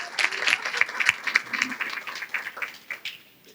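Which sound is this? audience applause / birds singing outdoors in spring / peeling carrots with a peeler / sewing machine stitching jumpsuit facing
audience applause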